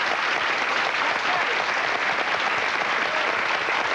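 A talk show studio audience claps steadily and loudly for the whole stretch, a dense, even wash of hands with no break.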